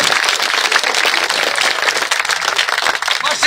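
Loud, dense clapping from a crowd gathered at an outdoor village public rally in India, continuous and energetic for the whole stretch with no voices on top.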